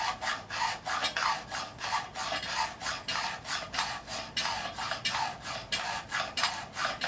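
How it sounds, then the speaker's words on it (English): A knife or blade scrapes a small red pine branch in quick, even back-and-forth strokes, a close, rhythmic rasping about three times a second with no talking. "I don't remember if I scraped this for the camera or not, so I'm going to do it again while it's on."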